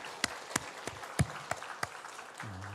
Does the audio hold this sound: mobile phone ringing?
no